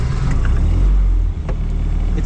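A Fiat 126 Niki's small engine catches and runs after a start, a steady low rumble close by with a brief dip partway through, no talk over it.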